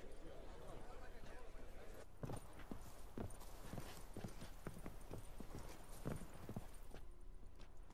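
Horses' hooves clip-clop in The Witcher 3, a steady walking rhythm of distinct knocks heard fairly close, with people speaking over it.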